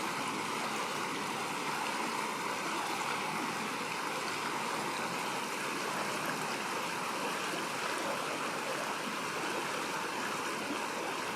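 A river rushes steadily past a camp at Mina Marg near Sonamarg, Kashmir, as a continuous, dense broadband roar of flowing water, unbroken and fairly close, with no voices.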